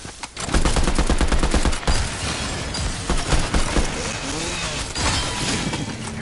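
Video game gunfire in dense rapid bursts, loud and continuous across the clip, with talking mixed in over the shooting.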